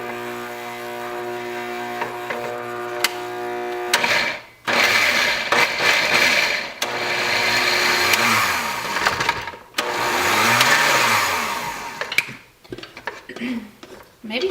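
Cauliflower is pulsed into rice in a kitchen blender, which whirs in loud, close bursts with chunks rattling against the jar and brief stops between pulses.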